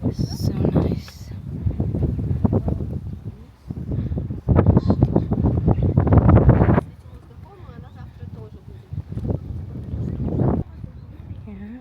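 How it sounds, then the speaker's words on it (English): Gusty wind on a hilltop on Jeju Island buffets the microphone in loud, uneven bursts that come and go, with quieter stretches between. "It's kind of windy, which is pretty nice."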